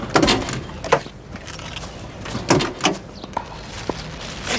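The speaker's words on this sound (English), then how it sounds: "Do you mind opening up the rear of your vehicle, sir?" A car's rear door is opened during a police stop, heard as a few nearby clunks and latch knocks with some rustling in between, no talk over them.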